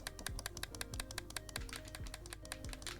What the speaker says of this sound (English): The controller clicking, can you hear it?